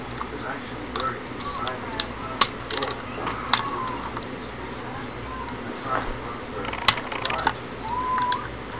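A 5/16 nut driver loosens bolts on a 10SI one-wire alternator, giving faint, intermittent ratcheting clicks and small metallic ticks against a low background hum, with some quiet talk.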